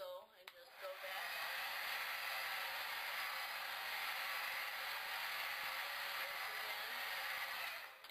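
A hair dryer blows on glued quick weave hair, a loud, steady, close whoosh that starts after a brief pause and runs on alone without a break.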